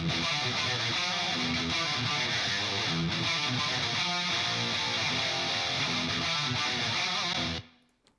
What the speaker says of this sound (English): rhythm guitars sound like this.